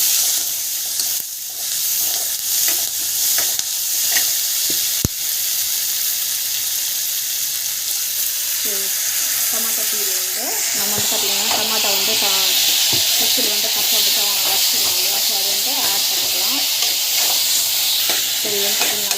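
Ingredients with rock salt are sautéed and stirred in a pan, a loud, continuous hiss of frying with repeated scraping strokes and clicks of the spoon, close up, with a person talking over it partway through.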